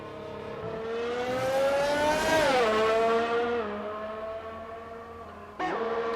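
A race car in a racing video game set at the Canada Grand Prix winds up for a fast lap, its engine whining steadily upward in pitch, then dropping through a gear change, with another sharp shift near the end, loud and close.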